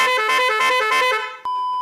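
A motorcycle's novelty horn honks a long, loud, tonal melodic blast, then cuts off and gives a short second toot.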